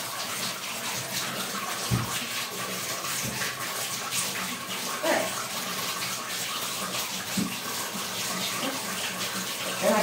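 Water runs steadily from a tap or showerhead while a shower is cleaned in a home bathroom, a continuous broad splashing rush with a few small knocks and clatters.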